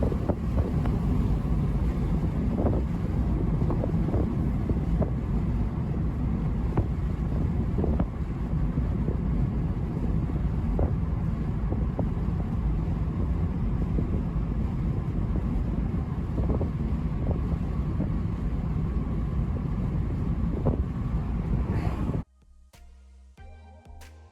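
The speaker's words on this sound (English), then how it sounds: "I'm gonna let you guys just hear the road noise and enjoy it for maybe about another 30 seconds or so" Steady low road and wind roar inside a 2022 Mazda MX-5 Miata Club while driving, with faint rhythmic thumps over seams, continuous for about 22 seconds before cutting off to near quiet.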